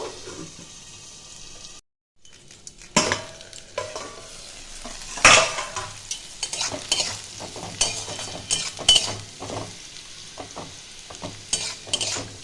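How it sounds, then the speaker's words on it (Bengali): Potato pieces frying in a pan over a medium-low flame, cooked with a lid on, give a soft continuous sizzle under repeated scraping and stirring strokes of a utensil, with a few sharper clinks. "মিডিয়াম টু লো ফ্লেমে এটা আমি ভাজবো। আমি এটা ঢাকা দিয়ে দিয়ে ভাজবো।"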